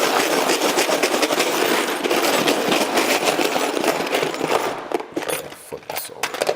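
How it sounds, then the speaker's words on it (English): An iPhone X is shaken inside a container of rusty razor blades, bolts and screws, making a dense, continuous metallic rattle and scraping that stays loud, then turns choppier and thins out toward the end. "Rusty razor blades, some bolts, screws. Let's pop it in there and give it a shake."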